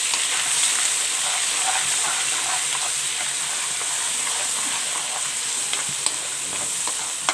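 Ground masala sizzles and fries in a pan of oil for beef kofta curry, a loud, steady, close hiss with occasional scraping stir clicks near the end and no voices.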